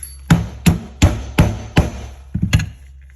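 Six sharp hammer blows drive a mainspring housing pin into place, the first five evenly spaced and the last followed by a quick cluster of lighter taps, close and clear.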